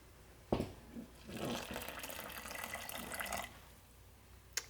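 Warm milk with partly melted butter poured into a well of flour for dinner roll dough, a steady liquid pour lasting about three seconds after a sharp start, fairly quiet and close.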